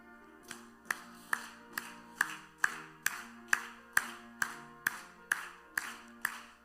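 A church congregation claps along to a hymn during a dawn prayer service, steady and evenly spaced at about two per second, ringing out clearly in a reverberant room over a faint sustained musical tone.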